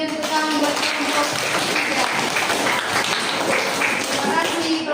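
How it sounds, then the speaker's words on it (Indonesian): A classroom of students claps for group 3 after a presentation, a steady wash of hand claps lasting several seconds at even loudness. "Berikan tepuk tangan buat kelompok"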